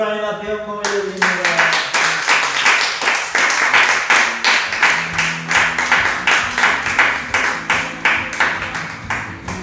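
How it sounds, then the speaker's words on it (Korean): A church congregation at a Sunday morning worship service claps loudly and steadily. The clapping starts right after a final sung or chanted tone fades, then keeps a regular, rhythmic beat in even pulses throughout. "박수로 하나님 앞에 영광을 돌립니다"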